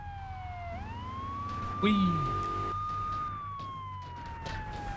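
A police car siren wails in the GTA video game, a steady gliding tone that rises and falls over several seconds, with a person briefly shouting over it.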